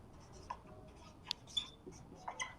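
During a physics lecture on current electricity, a marker or chalk writes on a board in short, faint scratching strokes and taps, spaced irregularly against a quiet room with no talking.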